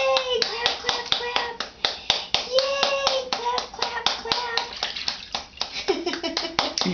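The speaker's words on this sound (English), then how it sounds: "Can you clap for me? Clap, clap, clap." A baby's hands clap in a steady run of sharp, close taps while an adult voice talks and coaxes throughout, with a splash of water near the end.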